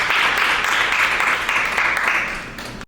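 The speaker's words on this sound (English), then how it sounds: "Please give a round of applause for her." A conference audience at a UN General Assembly high-level forum gives a panelist a brief round of applause, a steady, fairly loud patter of many hands that tapers off over about three seconds.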